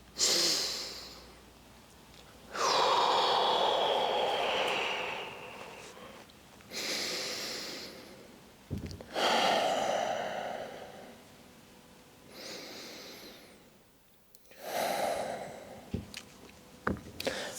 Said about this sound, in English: So like usual, 3 to 5 deep breaths.